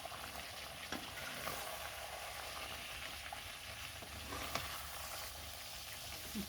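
Meat curry sizzles in a pot while being stirred, a quiet, steady frying hiss with occasional soft scrapes and knocks of the spoon against the sides.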